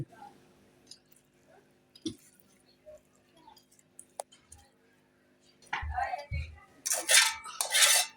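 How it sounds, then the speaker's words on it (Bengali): Thick halwa is poured onto a ghee-greased plate, heard as soft wet squishes and clinks of a utensil on the plate, with quiet gaps before louder scraping and slopping toward the end. "এই হালুয়াটা আমরা এখন এই প্লেটে ঢেলে নিচ্ছি"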